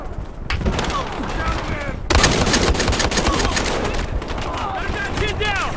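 Semi-automatic sniper rifle shots in the Battlefield Hardline game amid a busy team deathmatch, sharp loud cracks with echoing tails and one heavier blast near the middle, surrounded by distant gunfire and battle noise.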